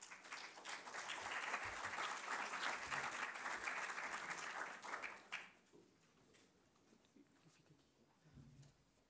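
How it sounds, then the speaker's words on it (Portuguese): Audience at a conference talk giving a dense round of applause for the next speaker, loud and steady for about five seconds before stopping abruptly, followed by quiet room noise and faint murmurs. "Uma salva de palmas, faz favor."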